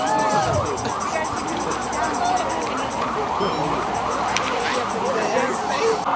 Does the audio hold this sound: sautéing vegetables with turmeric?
no